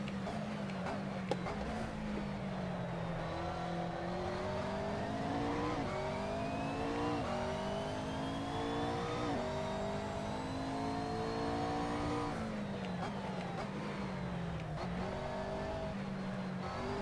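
A GT3 race car engine roars in a sim racing game at Donington, revving up through the gears in a continuous rising drone with repeated shifts and dips, steady and prominent with no talk.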